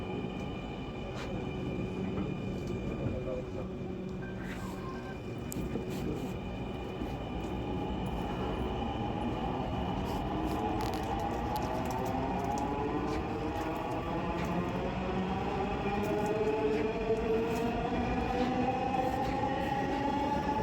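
A metro rail train runs between Kazipara and Mirpur 10 on a line bound for Uttara North, heard from inside the car as a steady rumble. Rising and falling motor whines sweep through it as the train accelerates, with no talking.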